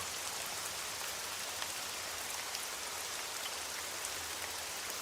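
Steady rain falls outdoors, a continuous even hiss of drops on surfaces with no voices and no pauses from start to finish.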